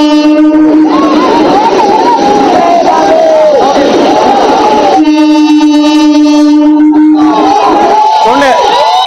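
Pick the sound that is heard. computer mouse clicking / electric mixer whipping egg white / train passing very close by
train passing very close by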